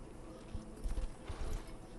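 Horse hooves clip-clop in Red Dead Redemption, a short run of soft, close hoofbeats over a steady outdoor rumble, with no talking.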